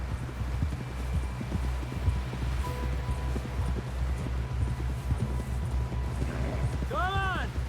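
A horse gallops in Red Dead Redemption 2, its hoofbeats a steady, prominent rhythmic clatter running throughout, with voices talking over the ride and a brief neigh-like cry near the end.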